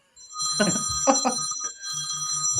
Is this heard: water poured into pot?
no